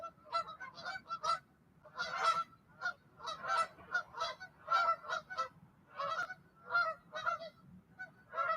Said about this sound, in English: thank you for the cheering geese that are cheering us on